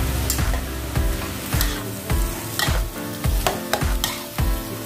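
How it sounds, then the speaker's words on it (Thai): Vegetables and pork stir-fried in a pan for a spinach spring-roll filling: a constant close sizzle with quick, regular scraping strokes of a spatula against the pan, several per second, and no voices. "เดี๋ยวรอหมูสุกพี่ปูก็จะใส่ผักลงไปนะคะ"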